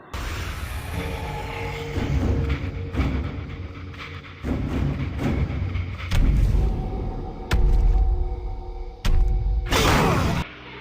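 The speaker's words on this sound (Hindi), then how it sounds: "तुम्हें ये जोरदार पंच कैसा लगा?" A powerful cartoon punch from a Ben 10 action scene: a series of heavy thuds, booms and whooshes, loud and repeated in bursts over a rumbling effects bed.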